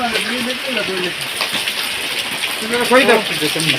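Steady outdoor rain with gusting wind makes a continuous broadband hiss during a rainy family day in the countryside, with people talking over it throughout.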